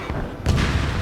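A missile launches in Ace Combat 7 with a sudden loud whooshing roar that swells midway and rumbles on, close and full.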